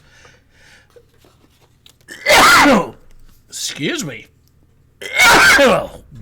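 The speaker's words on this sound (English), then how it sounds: "that was one hell of a sneeze." A loud, abrupt sneeze bursts out, followed by a shorter vocal sound and then a second forceful sneeze, with a voice speaking briefly afterward.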